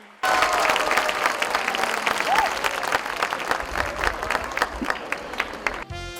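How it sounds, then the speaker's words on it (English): Audience clapping at a school annual day performance, a loud sustained burst of applause that starts abruptly and carries on for several seconds, with a voice briefly cutting through partway and the clapping tapering at the end. "Come on, audience, let's clap for them."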